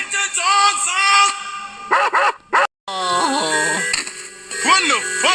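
Dogs bark and yip in sharp, loud bursts close by, interleaved with excited human shouting and voices throughout.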